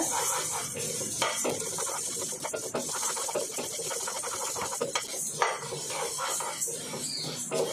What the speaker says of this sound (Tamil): நல்லா கைவிடாமல் கிண்டிடுங்க.